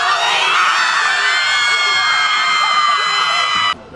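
Football fans roar for the Hinds Community College Eagles at their first home game against Holmes: loud, dense whooping and shouting from a close crowd that cuts off sharply near the end.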